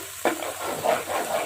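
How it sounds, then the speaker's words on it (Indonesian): Sambal with lemongrass frying in vegetable oil over medium heat in a pan, stirred with a sharp scrape at the start, then steady sizzling and crackling with repeated stirring strokes, close by. "Nah ini kita masak hingga sambalnya ini tanak sahabat"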